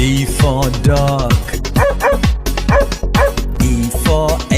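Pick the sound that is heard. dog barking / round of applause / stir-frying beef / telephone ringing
dog barking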